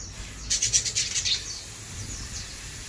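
Aceh magpie-robin (murai batu) giving a quick burst of bright, high chirping notes for about a second, close and fairly loud, then fading to faint calls over a low background rumble.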